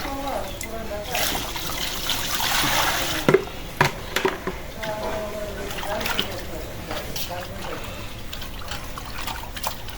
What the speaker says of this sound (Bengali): কাটা হয়ে গেল মাছ দুটা এখন ভালো করে ধুয়ে নেব